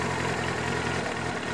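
A cold car engine idles with the choke pushed off, a continuous loud rumbling drone at around 1000 RPM with a slightly uneven throb as the revs settle, no talking.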